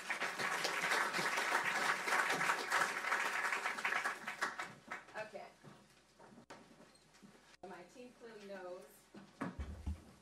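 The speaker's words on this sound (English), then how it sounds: "Let's give them all a round of applause." Audience applause for panelists at a broadband policy discussion, with dense clapping for several seconds that fades out, followed by a voice speaking.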